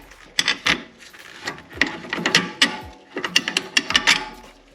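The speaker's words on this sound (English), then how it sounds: "I'm gonna see if I can get this screw in." Ratchet tool driving a screw on a BMW X5 E70 front suspension, a string of short clicking and mechanical bursts with brief pauses, close by, no talk.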